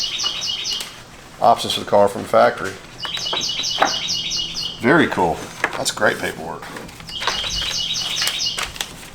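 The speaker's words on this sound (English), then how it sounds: "The loud bird. Shut up, bird!" Loud bird chirping in repeated bursts of bright, rapid calls, close by and returning three times, mixed with people talking about a 1971 Plymouth Road Runner B-body and its paperwork.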